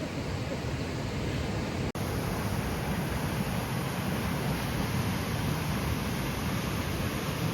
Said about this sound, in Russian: Мне все время звук водопада напоминает Шерлока Холмса и Мориарти.